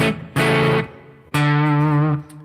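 Chaotic, distorted electric guitar effect drenched in reverb: two loud buzzing bursts, the second longer and ringing out before cutting off, with no voices.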